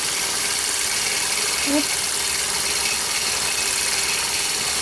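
Sewing machine stitching a feather circle wreath design, a steady loud close hum with fine rapid needle vibration running without pause, and a brief spoken word over it.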